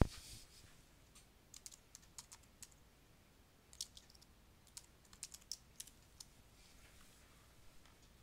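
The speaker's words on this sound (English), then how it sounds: "and type your text." Light, quiet keystrokes on a computer keyboard as text is typed into a design program, scattered irregular taps with short pauses between small clusters, close and soft with no talking.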